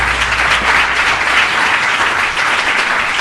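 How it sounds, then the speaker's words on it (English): A loud, dense round of applause fills a hall at a careers event, the crowd's clapping sustained and even from start to finish. "a round of applause, please"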